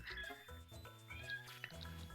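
A house cat meows in protest right after being sprayed with water for getting on the table, a few short upset cries heard over steady background music.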